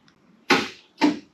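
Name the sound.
car hatch lock actuating on Ford Fox body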